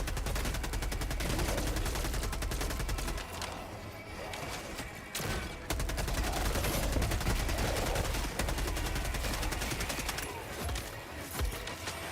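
Sustained rapid gunfire against robot enemies in Helldivers 2, with dense, loud automatic bursts running almost continuously with only brief pauses, and faint voices mixed underneath.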